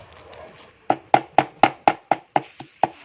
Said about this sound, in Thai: นกมาสับให้ละเอียด